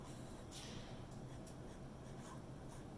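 A Sharpie marker tracing over pencil lines on paper, a soft, close scratchy rubbing with faint strokes, quiet and continuous.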